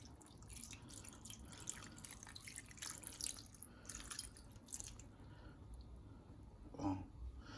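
Water, about a cup, poured from a bowl into a baking pan while making baked pork steak with gravy and potatoes; a soft, steady splashing and dripping trickle, close and faint, with a brief louder splash near the end.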